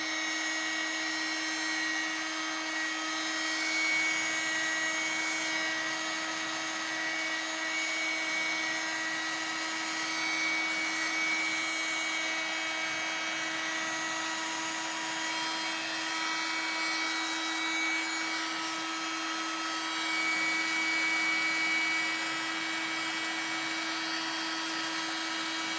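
A heat tool blowing on Mod Podge to dry a summer bee craft, a loud, steady whirring drone with a constant high whine that runs unbroken throughout and no speech over it.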